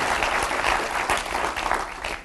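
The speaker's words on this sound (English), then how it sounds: "You can applaud." Full audience applause at an Advertising Week Europe conference session, a dense continuous patter of many clapping hands at moderate volume with no speech over it.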